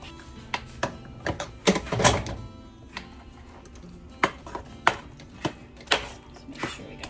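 Creamy mashed potatoes with milk are stirred in a pot, a spoon knocking and scraping in close, irregular clanks and thumps, with one heavier scraping stretch early on.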